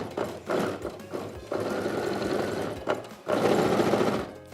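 A sewing machine stitching around a pillow cover, running in close, steady bursts of rapid needle chatter with brief pauses between runs.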